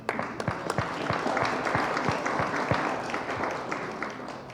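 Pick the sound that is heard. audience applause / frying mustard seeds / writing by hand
audience applause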